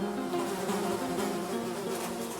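Hundreds of fruit flies in milk bottles on shelves in a cramped, rotten-fruit-filled lab room fill the air with a dense, continuous buzzing drone that holds steady throughout, with no voices.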